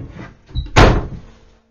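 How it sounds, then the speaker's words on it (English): A household door slams shut with a single loud, sharp bang and a brief rattle, preceded by faint background sounds and followed by quick decay into silence. "I slam my door for you"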